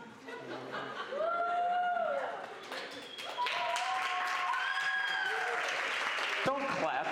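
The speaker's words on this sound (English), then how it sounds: "Don't clap yet." Audience clapping at an open mic improv comedy night, a steady wash of applause running through the whole stretch while voices talk and laugh over it.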